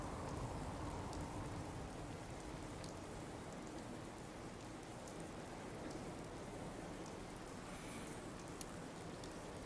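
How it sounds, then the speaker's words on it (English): Steady heavy rain from a storm in a video game set at the Sanctuary settlement of the Commonwealth, a dense even hiss of falling drops continuing without a break, with no talk over it. "It's just a storm"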